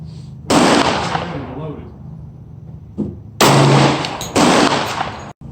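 A 10mm Glock G40 pistol is fired outdoors at a target: several loud, sharp shots with long ringing decays, one opening blast followed by a closer group of reports a few seconds later.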